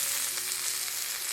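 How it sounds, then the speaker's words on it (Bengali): Chopped green chilies and tomato fry in a pan with a loud, continuous sizzle, a dense hiss that stays even for the brief moment, with no talking. "কাঁচা লঙ্কা কুচি। হালকা করে ভেজে নেব, খুব বেশি ভাজবো না"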